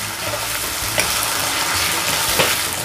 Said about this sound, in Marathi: आले लसूण पेस्ट घालते 1 टीस्पून। व्यवस्थित परतून घ्यायचे आहे।